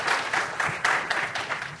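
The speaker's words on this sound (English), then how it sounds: "I just want to give a round of applause to the AV team and our volunteers here at BSides" A conference audience at a BSides security event applauds the AV team and volunteers, a short burst of moderate clapping that swells and fades in uneven pulses.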